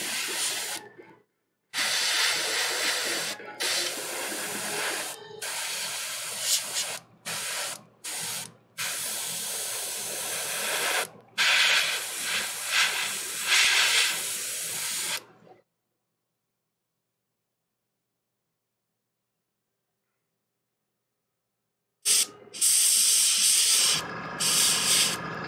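Airbrush spraying paint onto a Warhammer 40K Magnus the Red miniature, darkening overspray on the red skin, as a steady close hiss broken into bursts by repeated trigger releases, then a long silence before spraying resumes.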